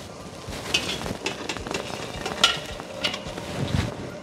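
Water boiling hard over high heat in a large steamer pot for ukadiche modak, a steady bubbling rush with scattered clinks and stirring noises close by.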